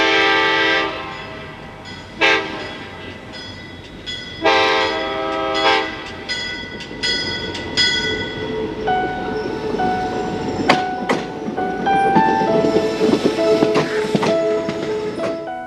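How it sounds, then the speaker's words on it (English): A commuter train passes close by with its horn sounding in several loud, blaring blasts, followed by the rumbling roll and clatter of cars going past. "this commuter train was right behind me before I noticed it"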